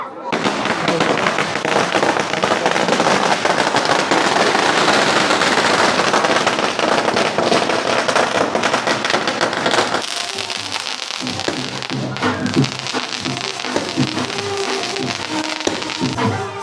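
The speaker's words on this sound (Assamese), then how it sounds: "গাইজ বোমা মারছি কিন্তু বাপরে বহুত মারছে বোমা" Firecrackers burst at an Assamese wedding as the groom's party arrives: a loud, dense barrage of rapid cracks and pops for about ten seconds, then sparser, scattered bangs with voices in the background.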